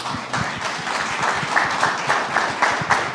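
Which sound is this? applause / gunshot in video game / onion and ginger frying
applause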